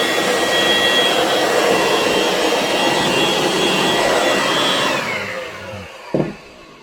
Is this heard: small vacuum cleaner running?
yes